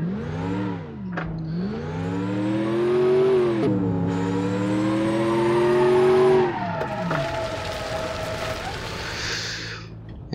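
Simulated car in the BeamNG.drive game, version 0.13, with an engine revving up and down through gear changes and some tire noise, steady and moderately loud, with no talking.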